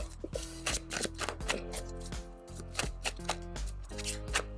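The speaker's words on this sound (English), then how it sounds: "I can shuffle because my hands are tiny. And these cards are kind of big." Oversized playing cards being shuffled by hand, a rapid run of crisp riffling snaps and flutters close to the listener, with a dense rhythmic patter and brief pauses between bursts.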